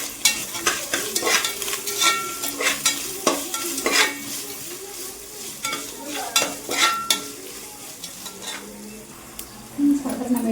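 Onions frying with rock salt in a pan sizzle steadily while a utensil scrapes and knocks against the metal in a rhythmic run of stirring strokes, close and fairly loud.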